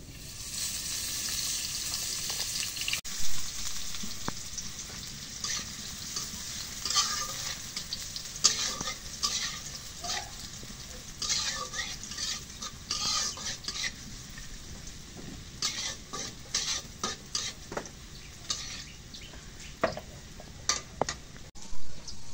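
Oil hissing and sizzling in a pan as small fish are fried with banana stem, with steady stirring scrapes and clinks of a utensil against the pan running throughout, close and continuous.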